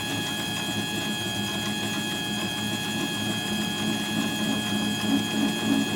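A metal lathe takes a deep cut without chatter in a home machine shop, giving a steady mechanical hum with a constant high tonal whine and faint rattling throughout, close and continuous.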